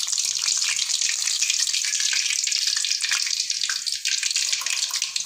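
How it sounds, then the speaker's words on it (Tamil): Fish fingers deep frying in hot oil, a loud, dense, continuous bubbling sizzle close up, with no talking. "நல்லா ஃப்ரை ஆகிற வரைக்கும் எல்லா பக்கமும் திருப்பி விடணும்."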